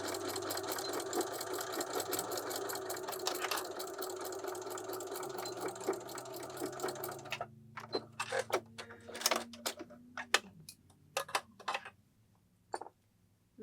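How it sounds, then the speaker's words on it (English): A sewing machine stitches straight across a marked line on a wine gift bag liner, a fast steady run of needle strokes for about seven seconds, then stops, leaving a scatter of small clicks and handling noises. "Now stitch across the line that you marked."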